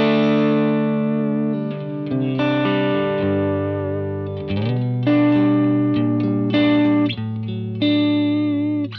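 An electric guitar plays through a modeled Matchless DC30 amp on a Line 6 Helix, a chimey Vox-style tone with a thick midrange. Sustained, slightly distorted chords and ringing notes change steadily, loud and alone.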